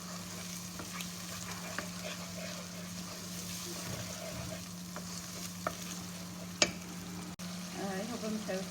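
Tomato sauce with Maggi seasoning and spices fries softly in a pan, a low continuous sizzle with gentle stirring scrapes and a few light clinks.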